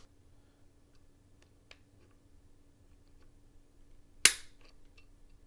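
A Springfield Hellcat OSP pistol's trigger breaks once during a pull-weight test, giving a single sharp, close click after near-silence.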